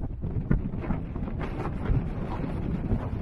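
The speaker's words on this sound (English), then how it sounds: "the winds at the summit were creeping up towards 30 miles per hour" Strong wind gusting at a hilltop summit buffets the microphone in a steady, close, rumbling roar that swells and eases without pause.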